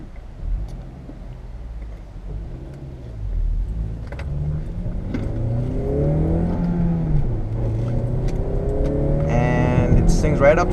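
A 2005 Acura TSX with a manual gearbox and a 200-horsepower engine revs as it accelerates toward 7,000 RPM, its engine note climbing steadily through rising pitch sweeps, growing louder over about ten seconds, heard from inside the cabin.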